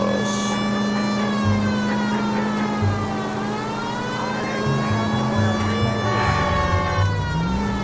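A 1940s police car siren in the Los Angeles crime game L.A. Noire wails steadily and loudly, its pitch slowly sweeping down and back up. An engine rumbles underneath and faint background voices come and go.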